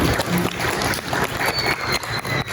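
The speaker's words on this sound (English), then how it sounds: "Let's clap, maybe after that." Elementary school audience at a senior leadership presentation, a dense, noisy burst of clapping and crowd sound that fluctuates throughout, fairly loud and close, with some cheering mixed in.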